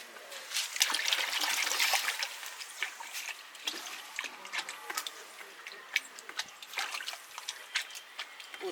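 Water runs and trickles over vegetables being washed, with a splashy burst early on that settles into uneven dribbles and small drips, fairly quiet and close.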